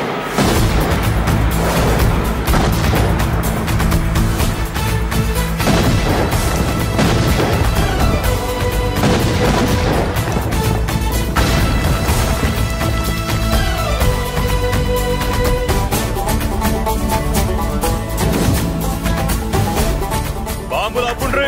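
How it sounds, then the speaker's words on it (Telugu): Bomb blasts go off in a Telugu action film scene, with repeated heavy booms and crashing impacts running under loud, dense music for the whole stretch. "బాంబులు ఆపుండ్రీ."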